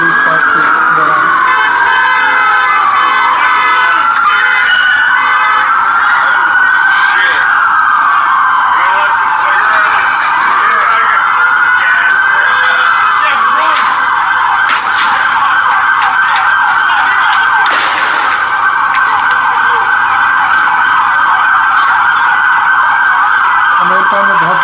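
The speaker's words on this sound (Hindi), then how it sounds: "यहाँ पर पुलिस का सायरन शुरू हो गया है" Loud police siren wailing continuously in the United States during a protest, its pitch rising and falling in long sweeps, close by with street noise underneath.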